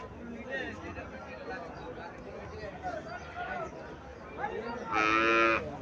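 A local cow at a cattle market gives a loud, drawn-out moo near the end, preceded by lower lowing and crowd chatter as people talk close by.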